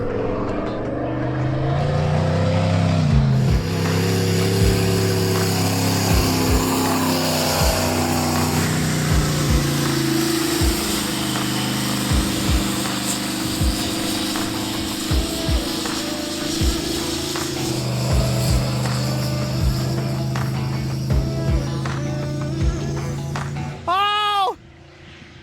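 A turbocharged mini wrecker engine runs under load and throws a check engine light at 10 pounds of boost, a loud sustained engine drone with shifting pitch and occasional sharp pops, and a rising whine near the end.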